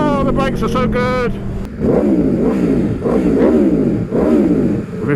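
A 2019 Aprilia RSV4 1100 Factory motorcycle engine, first holding a high steady note, then blipped up through three loud, close rising revs in quick succession.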